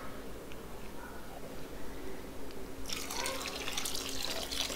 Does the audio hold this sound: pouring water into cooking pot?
yes